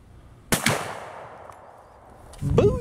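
A shotgun with a modified choke fires a single sharp, loud blast of Kent waterfowl ammunition during a pattern test, and the shot trails off into a decaying echo before a voice begins at the end.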